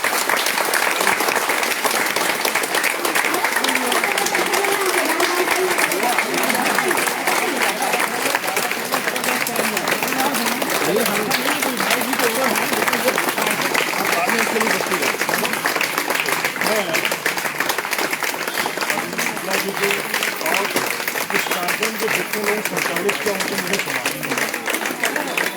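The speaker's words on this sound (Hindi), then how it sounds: "तालियां के रूप में" Sustained crowd applause at a yoga gathering in Basti District, dense and steady for the whole stretch, with faint voices mixed into the clapping.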